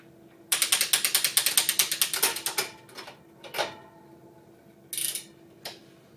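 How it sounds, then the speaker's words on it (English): A bicycle's rear derailleur shifts into the smallest gear, the freewheel ratcheting in a rapid run of close clicks for about two seconds, followed by a few separate mechanical clunks and ticks. "You'll want to start by shifting the bike into the highest or smallest gear."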